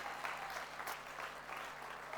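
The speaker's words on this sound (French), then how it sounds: "Et on peut encore applaudir s'il vous plaît, parce que juste pour mes enfants, il faut applaudir." Soft, steady audience clapping at a talk or church gathering, a fairly faint continuous patter with no voices over it.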